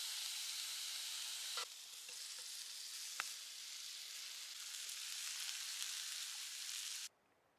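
Steak sizzling over a campfire while wild camping in the woods, a steady even hiss with a few faint pops, held at one level for about seven seconds before cutting off sharply.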